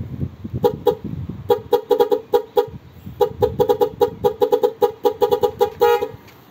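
A Nhay 3+ Pro Music horn fitted to an e-bike sounds a series of bright, close, loud toots in quick irregular bursts, some rapid and stuttering, over a low background rumble.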